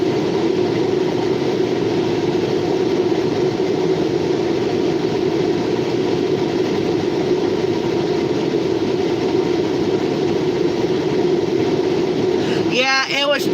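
A Norfolk Southern local freight train rolls past in New Castle, Pennsylvania, a steady low engine drone and wheel rumble holding for many seconds before a brief horn-like tonal burst near the end, with speech faintly present.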